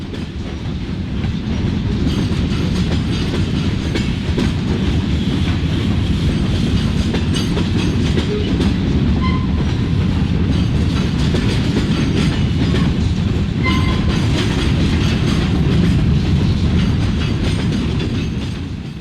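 An Amtrak train on the Michigan Line rolls past close and loud, wheels clattering in a steady clickety-clack over the rails for the full stretch, with a few brief squeals rising above the rumble and no talking.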